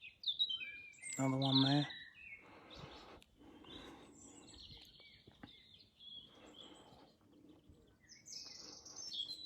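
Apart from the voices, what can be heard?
birds twittering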